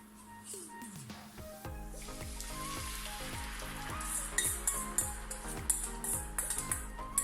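Garlic and tomato frying in a pan over high heat, a steady close sizzle with repeated stirring strokes scraping and pulsing in a regular rhythm, growing busier toward the end.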